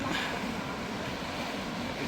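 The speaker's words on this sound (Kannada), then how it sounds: "ಅದು ಟ್ರೈನ್ ಹೋಗುತ್ತೆ." A continuous low rumble and rattle of a train rolling past in Switzerland, steady and moderately loud throughout, with no voices.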